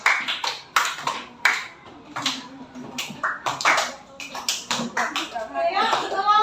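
A classroom group claps in a brief burst of applause, with sharp uneven hand claps that grow denser and build toward a scattered ending.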